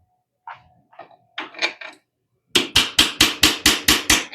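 A hammer drives out the axle of a Kawasaki 450 motorcycle with a rapid run of eight sharp metallic strikes, preceded by softer clanks and tool handling.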